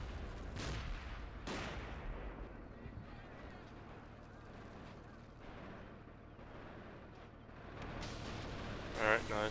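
MG42 machine gun fire in the video game Men of War Assault Squad 2, distant bursts and faint rattling under a steady rumble of battle, with a couple of heavier blasts near the start.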